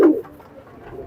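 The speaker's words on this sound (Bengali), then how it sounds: "ছোট মদ্দা গ্রুপের কবুতর।" A small Khulna-breed pigeon gives one short, close coo at the very start, followed by quiet background hum.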